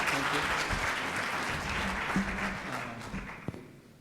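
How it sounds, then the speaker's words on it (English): A conference audience claps for a presenter, Dr. Constantine, with a full round of applause that carries steadily before thinning out and fading toward the end, with some voices beneath it. "let's give a round of applause to Dr."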